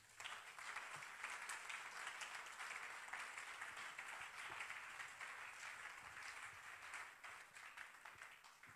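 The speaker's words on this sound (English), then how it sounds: "Clap your hands for the Lord." A church congregation clapping hands during a worship service makes a steady, faint wash of applause that continues evenly throughout without a break.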